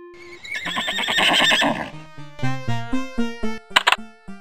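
A horse whinnies in a short, strained burst from the MS-DOS children's game Kids Zoo: A Baby Animal Adventure, after which a bright synthesized jingle plays alone.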